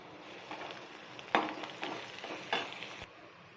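Onions fry in a pan with ginger and garlic, giving a quiet, steady sizzle with a few sharper clinks and stirring knocks from a utensil against the pan.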